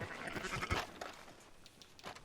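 Sheep bleating in a cowboy-themed video game, a couple of short close bleats with quieter livestock noise around them.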